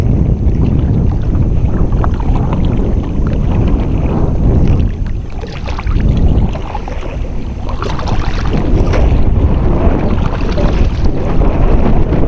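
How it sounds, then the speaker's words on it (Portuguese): Steady wind roars and buffets the microphone while kayaking up the Caí river, a loud, continuous broadband rush with a brief dip partway through. "O vento tá acalmando um pouco também agora."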